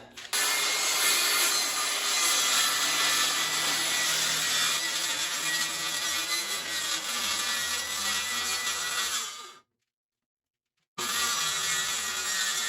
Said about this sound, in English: I'm gonna start by ripping this 4x8 plywood down 12 inches off, all the way down